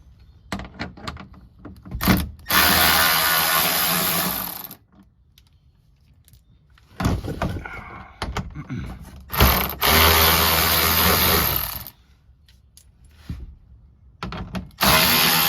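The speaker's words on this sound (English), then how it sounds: "There's 4 10mm bolts that need to be taken out to take it out." Bolts being loosened and removed from the plastic underbody cover of a 2021 Toyota Camry, heard as clicking ratchet bursts and mechanical rattles separated by quiet pauses, close and fairly loud, with no talking.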